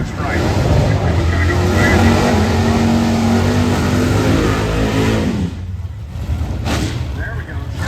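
Blue Chevrolet Corvette drag race car accelerating at a Snowbird Nationals drag strip, a loud roaring engine note that sustains strongly before cutting off abruptly, leaving faint crowd and track ambience.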